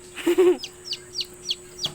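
A short low clucking call from a hen, then about five high, thin chick peeps at a steady pace, close by.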